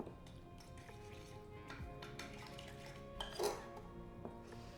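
Dog treat dough for seaweed starfish and shell biscuits being mixed in a bowl, faint clinks and light scraping of a utensil against the bowl, close but quiet, with no talking.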